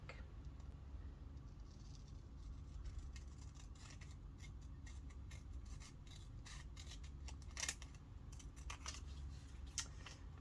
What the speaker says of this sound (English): I think I just need half of it, so I'm just going to be cutting that real quick.